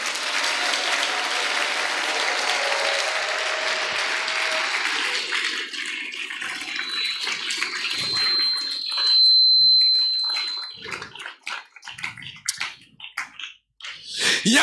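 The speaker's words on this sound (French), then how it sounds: "Est-ce qu'on peut acclamer le Seigneur?" A church congregation bursts into loud, dense applause for the Lord, a roaring wash of many clapping hands that thins after several seconds into scattered, uneven claps and a few voices.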